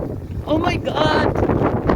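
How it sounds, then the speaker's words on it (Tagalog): Strong wind gusting during a snowstorm in Svalbard, roaring close against the microphone with a rising, steady rush after a brief quieter start, while a person talks over it. "So windy."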